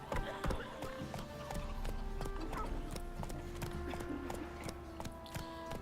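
Hooves of Roach, the horse in the Witcher 3 video game, clop in a quick, steady rhythm of sharp hits over a low game ambience, close and clear throughout.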